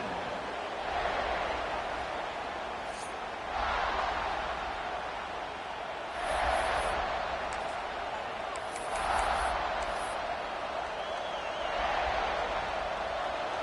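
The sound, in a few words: stadium crowd at Gainesville college football game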